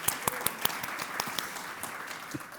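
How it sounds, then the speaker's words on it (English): Audience at a food-is-medicine summit clapping for Congress members and for Baltimore: a steady wash of applause with sharp individual claps standing out, moderately distant, tapering slightly at the end. "Round of applause for the Congress members and a round of applause for Baltimore"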